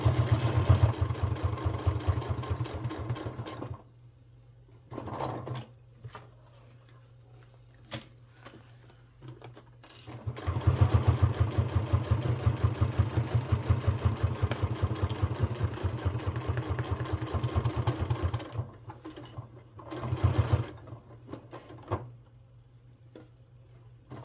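A sewing machine runs in long rapid stitching bursts while sewing all the way around a retro fanny pack with a 1 centimeter seam, pausing briefly between runs, close and steady.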